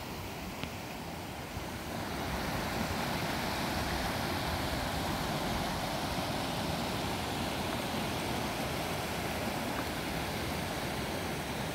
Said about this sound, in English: And then the creek going on downstream.